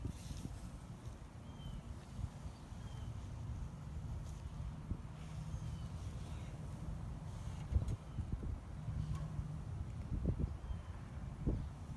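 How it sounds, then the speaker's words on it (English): Wind blowing outdoors beside an idle Westinghouse iGen2500 inverter generator, a steady low broadband rumble of wind buffeting the microphone with occasional stronger gusts, no one talking. "It's kind of windy out here"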